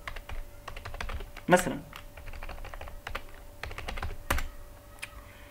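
Rapid computer keyboard typing as a comment line goes into a Bash script, dense clicks with a few louder keystrokes, under occasional talk in Arabic.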